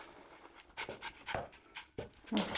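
A West Highland terrier pants rapidly up close, a rhythmic series of quick breathy huffs, fairly quiet and uninterrupted by talk.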